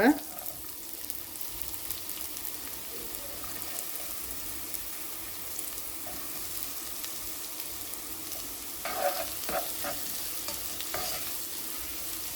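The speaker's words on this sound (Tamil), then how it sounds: "இப்போ எண்ணெய் சூடேறிட்டு நான் இதில் வெங்காயம் சேர்க்குறேன்" Chopped onions frying in hot oil in a pan for curry dosa, a steady soft sizzle with occasional stirring scrapes, close and moderately quiet throughout.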